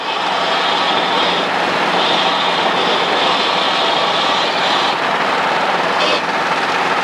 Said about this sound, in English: It's called a running takeoff